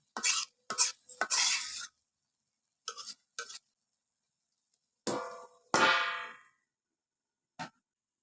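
A cooking pot is covered with its lid while leafy grass pea greens cook, giving several separate metallic clatters and clanks up close, spaced out with quiet gaps between them.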